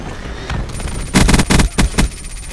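Hellstorm missile strike and gunfire in a shooter game: sharp bursts of rapid gunfire and heavy impacts in clustered volleys, loud and close, after quieter faint sounds at the start.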